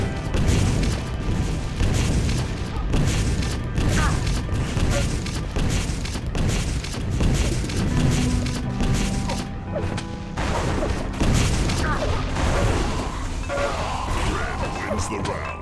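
Rockets bombarding a bridge in a Quake Live clan arena match, with dense repeated explosive booms and crashes mixed with constant game sound effects and music throughout.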